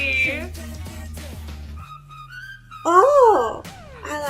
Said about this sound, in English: I like the whistle part.